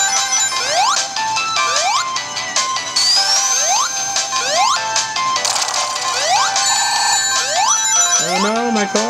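Repeated bright rising chimes of ring or coin pickups from the Sonic Mania video game on Nintendo Switch, arriving in a steady quick series with a louder jingle burst midway and a warbling tone at the end.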